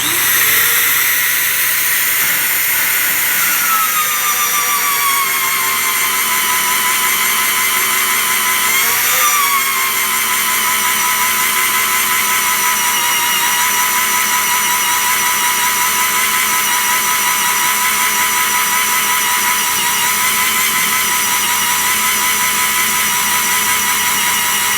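An Evolution S28 magnetic drill bores a hole through steel, set up out of position, giving a loud continuous high-pitched whine with a steady grinding cut that wavers slightly in pitch, close and without talk.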